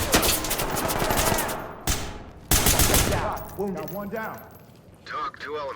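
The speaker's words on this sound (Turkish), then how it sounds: "madem bize silah sıkıyorsunuz" Gunfire in the tactical shooter game Ready Or Not, dense bursts of loud close shots broken by brief pauses, with ringing metallic tails and voices talking over the shooting.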